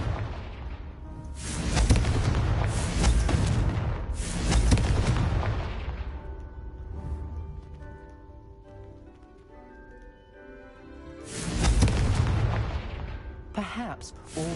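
Confringo blasting spells go off in a PS4 video game as loud, booming explosions in several bursts, with quieter gaps and lingering rumble between them and someone speaking at times.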